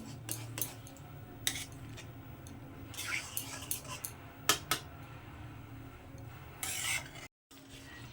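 A spoon stirs lentil dal with jute greens in a pot, scraping and clinking against the metal in irregular strokes, close and fairly quiet, with no talk over it.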